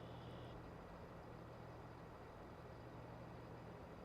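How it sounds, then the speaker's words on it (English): A vehicle rumbles past outside a house, a steady low broadband roar heard from indoors at a distance, with no voices over it. "Oh, it was a car."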